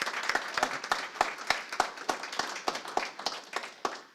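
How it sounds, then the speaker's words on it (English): Audience applause at an MLK 2020 honoring event, a small crowd clapping in uneven, fairly sparse claps that fade out over a few seconds, with no speech over it. "Give them a round of applause, please."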